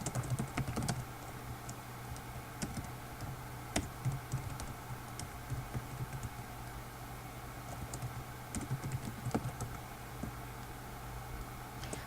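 Someone types on a computer keyboard, a steady patter of quiet close keystrokes with a few sharper clacks, continuing without speech throughout.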